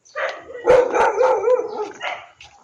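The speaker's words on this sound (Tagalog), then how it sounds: "Marami lang aso sa paligid." Several dogs bark and yip in overlapping bursts, fairly close and loud, with a howling tone in some calls.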